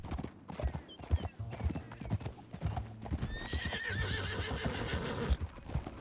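Hooves clop at a quick gallop in the video game Red Dead Redemption II, with a horse whinnying near the end and voices talking faintly alongside.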